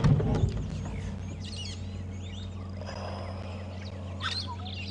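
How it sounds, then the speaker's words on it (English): Birds squawking and calling in the bush during a morning safari drive at Djuma and Arathusa, with a few sharp cries over the steady rumble of an idling vehicle. "You may have heard a louder squawk as that one came past."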